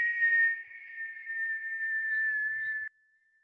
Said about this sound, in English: Exhale through the whistle,